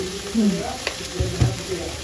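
A spice mixture fries in a pan for Kolkata-style chital fish kalia, a brief close sizzle with a couple of stirring scrapes over about two seconds.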